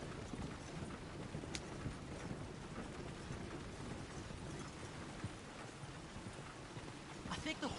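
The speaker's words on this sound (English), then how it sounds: "I think the horse is getting skittish." Steady clip-clop of horse hooves pulling a wagon along a road in Red Dead Redemption 2, a continuous rhythmic trot with a rainy hiss in the background and voices talking over it.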